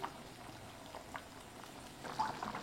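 Lentil dumplings cook in gently boiling liquid, a quiet, steady bubbling with small soft pops and splashes, heard close but faint.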